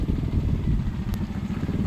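A motorcycle engine rumbles loudly nearby, a low pulsing throb that stays steady throughout, with a brief faint click in the middle.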